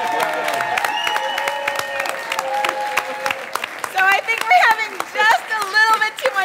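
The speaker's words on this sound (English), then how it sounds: "45 seconds of clapping starts now." Dense clapping rolls through a crowd, steady and lively, with cheering voices and a tonal background swelling over it toward the end.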